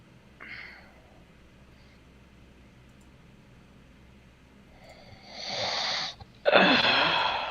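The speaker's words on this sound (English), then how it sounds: "We can hear you breathing" A person breathes heavily and close to the microphone, with two loud, harsh, wheezy rushes of air near the end after a faint earlier breath, during a tabletop role-playing session.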